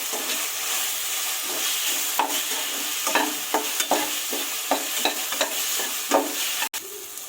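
Ginger garlic paste fries in a pan for mushroom biryani, a constant close sizzle broken by rhythmic scraping strokes of a spoon stirring the paste, with no talking.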